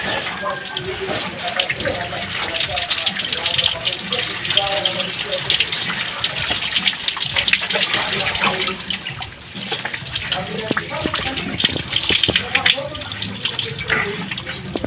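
Water pours steadily from a tap during a bath, a continuous splashing gush that stays fairly loud throughout with a brief dip near the middle, and faint voices in the background.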